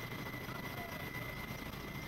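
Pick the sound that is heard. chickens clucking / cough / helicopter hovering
helicopter hovering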